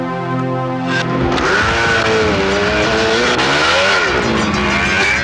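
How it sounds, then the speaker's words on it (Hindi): Busy street traffic in a Hindi film scene: loud, continuous roar of cars passing close by, engine pitch rising and falling as vehicles sweep past, with a brief tire squeal. "ट्रैफिक बहुत है"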